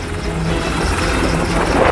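An HAL Light Combat Helicopter flies over Ladakh, heard as a steady, loud broadband roar of engine and rotor with low rhythmic thumping, continuous and unbroken with no talk.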